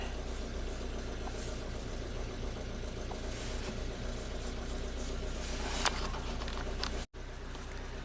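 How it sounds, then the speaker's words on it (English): A Chevy Captiva with a direct-injection engine, swapped and showing a fuel pressure fault, idles with a steady, close, fairly faint rumble and a light chattering tick, interrupted by a brief dropout near the end, with no talk. "The car is still not happy. You can hear that chatter."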